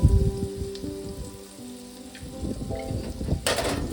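Soybean chunks with chili powder and turmeric frying in a pan for a restaurant-style soybean curry, giving a close, continuous crackling sizzle like rain, with light stirring scrapes and a brighter hiss near the end.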